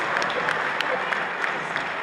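Audience applause at a political gathering in Rivers State marking the 2023 election, a short burst of scattered clapping from a crowd heard from a slight distance.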